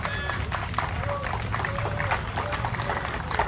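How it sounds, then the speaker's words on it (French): Crowd applause at an outdoor fire festival, continuous clapping and shuffling from a sizable gathering with chatter and voices running underneath. "Oui, on peut l'applaudir."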